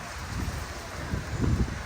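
Strong storm wind with no rain yet, roaring and buffeting against the microphone in steady rushing gusts that swell louder near the end, with no voices.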